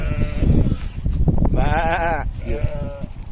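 A sheep bleats loudly nearby in a long wavering call, followed by a shorter second bleat, with a person talking underneath.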